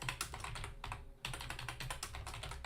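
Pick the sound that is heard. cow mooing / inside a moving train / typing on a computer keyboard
typing on a computer keyboard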